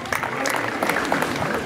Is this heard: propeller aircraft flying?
no